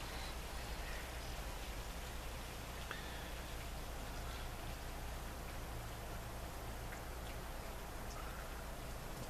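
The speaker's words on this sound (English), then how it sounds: "This rain is trying to get serious" Steady rain falls in a continuous, even wash of noise that stays constant throughout, with no talking.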